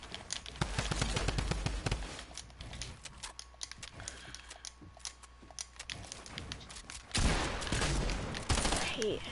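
Rapid shotgun blasts in a Fortnite zone wars 1v1 match, loud clustered shots early and again near the end, with quieter scattered game effects in between.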